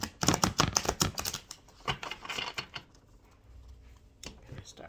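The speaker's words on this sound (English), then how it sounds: "I'm going to go ahead and shuffle them one more time for us." Tarot cards shuffled by hand in a quick burst of crisp riffling and flicking, loudest at the start, then thinning into softer, scattered card taps and rustles close to the microphone.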